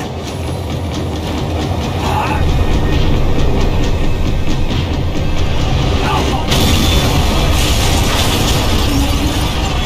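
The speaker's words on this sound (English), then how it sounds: "The tram was slowing down, and I'd only just gotten on board." A tram in the Max Payne 3 video game rumbles and rattles steadily on its rails as it slows down, with loud clanking and a sharp mechanical screech partway through.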